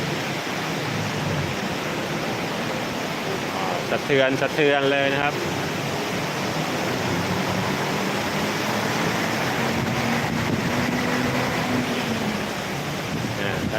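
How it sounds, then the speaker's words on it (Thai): Dense, steady hiss of heavy rainfall fills the scene while someone speaks over it. "ฝนตกหนักครับผม"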